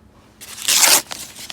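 A paper mail package for plants is torn open outdoors in one loud, close rip lasting about half a second, followed by a few small crinkles.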